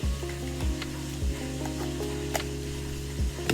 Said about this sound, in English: I'm sure y'all hear me cooking